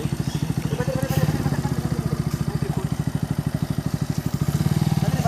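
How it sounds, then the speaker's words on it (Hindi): A motorcycle engine runs during an off-road outing in water, chugging in a fast, steady pulse close by, with people talking faintly over the mechanical clatter. "रिमैन तो चला दे यार मेरे बाइक को।"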